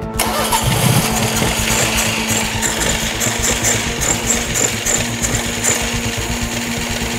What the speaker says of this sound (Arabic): فعلا المحرك بيشتغل ودي مفاجأة كويسة جدا